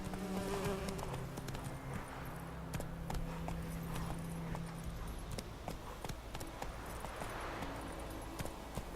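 Roach the horse gallops in The Witcher 3, a rapid rhythmic hoof beat running steadily beneath buzzing insects and ambient game sound, with a faint voice briefly at the start.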